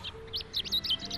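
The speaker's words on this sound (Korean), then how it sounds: "나이팅게일의 노래소리를 들은 임금님은 다시 건강을 되찾았어요" A nightingale in a cartoon sings a quick run of bright, high chirps and trills, repeated close together over a soft background music bed.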